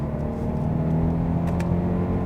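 A Kia Optima with a 1.6 turbo engine and 8-speed automatic hums steadily from inside the cabin, a smooth continuous drone with no distinct rev flare.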